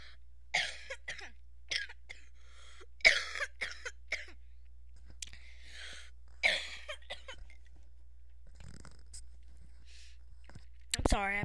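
Repeated coughs and throat clearing from a person with a lingering cold, quiet and close, scattered in separate bursts across the clip with faint background hum.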